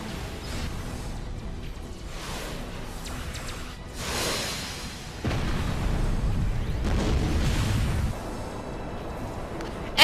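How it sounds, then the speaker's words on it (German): Space battle in Star Ocean: The Last Hope, a single shot striking five ships, rendered as layered rumbling explosions and whooshing bursts, a heavier sustained boom in the middle, close and loud. "er hat 5 Schiffe getroffen mit einem Schuss"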